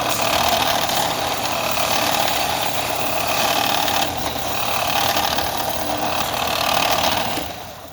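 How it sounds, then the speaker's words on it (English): A belt sander rounding and smoothing the corners of a wooden crucifix, giving a loud, steady, continuous grinding roar with a gritty abrasive hiss that holds for several seconds before easing off at the end. "I think that's all we're going to get with the belt sander."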